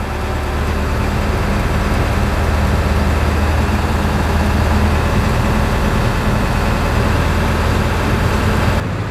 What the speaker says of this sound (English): diesels don't like to idle for long periods of time